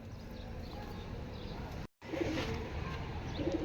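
Pigeons coo at a pigeon farm with soft, low, repeated calls over faint background noise. The cooing is clearer in the second half, just after a brief dropout in the sound.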